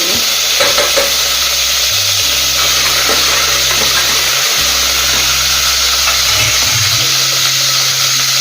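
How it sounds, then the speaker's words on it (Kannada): Onions tipped into hot oil with fennel seeds in a home kitchen pan, giving a loud, steady sizzle and frying hiss throughout, with stirring scrapes and a low hum beneath. "ಸೋಂಪು ಹಾಕಿದ್ಮೇಲೆ ಈರುಳ್ಳಿ ಸೇರಿಸ್ಕೊಳ್ತಾ ಇದ್ದೀನಿ"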